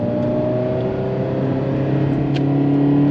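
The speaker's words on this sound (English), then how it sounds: "that beautiful high-revving V8" A high-revving V8 sports car engine revs hard and climbs steadily in pitch, a loud close accelerating roar that holds without a break.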